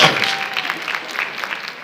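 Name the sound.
applause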